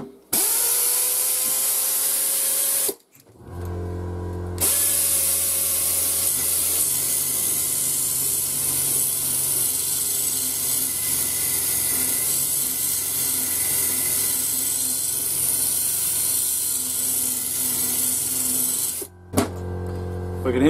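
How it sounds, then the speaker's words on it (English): An air compressor runs during bristle blaster rust removal: a loud, steady mechanical drone with a hissing rush that holds for about fifteen seconds, cutting in after a brief pause and stopping near the end. "We can hear the compressor running straight away"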